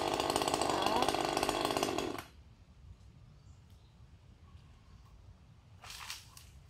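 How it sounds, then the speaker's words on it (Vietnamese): A chainsaw cuts thick tree branches during a tree felling in rainy weather, buzzing loud and near for about two seconds, then going quiet, with a shorter burst near the end. "Cái cưa nó cũng giật giật chứ mà không sao các bạn."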